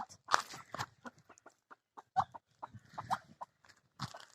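Quiet, scattered clucking and short calls from poultry in a village yard, including a rooster, sparse bursts separated by silence, fairly close.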